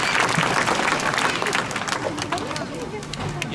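An audience at a safari park sea lion show breaks into steady applause and cheering. The clapping is dense and close, with crowd chatter mixed in.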